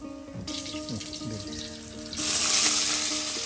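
Bananas frying in hot oil in a village kitchen give a continuous bubbling sizzle that swells sharply louder partway through, with a few faint tonal squeaks and clatters near the pan.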